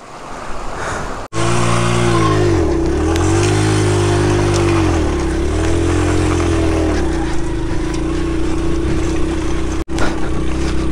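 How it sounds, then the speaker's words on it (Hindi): A motorcycle engine idles and revs loudly up close, its pitch wavering unevenly in a rough, sputtering pattern, with two brief cutouts. "मेरी बाइक के साउंड से आपको आइडिया हो रहा होगा कि ये बाइक कितना मिसिंग कर रही है"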